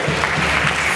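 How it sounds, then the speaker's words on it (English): A graduation ceremony crowd claps for a teacher: a short, loud, dense burst of applause that fills the hall evenly with no break or voices over it. "Can you clap for our teacher?"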